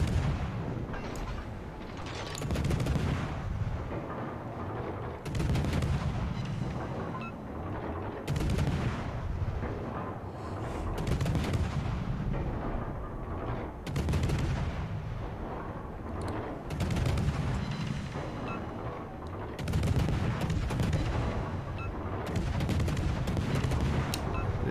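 Warship main batteries firing in World of Warships, the French cruiser Colbert in play, with loud booming salvos repeating roughly every few seconds across the whole stretch, each shot followed by rumbling decay.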